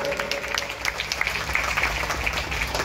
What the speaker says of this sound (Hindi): गोटे जोरदार करताली हो जाओ